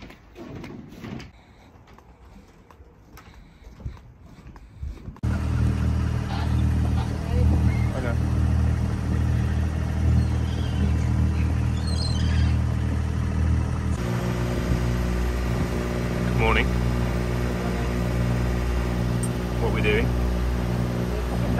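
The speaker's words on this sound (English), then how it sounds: "Sorry about the engine noise again" A sailboat's inboard engine runs steadily while motoring out of a marina on a coastal sailing trip, a loud, continuous low drone that fills most of the clip after a quieter start.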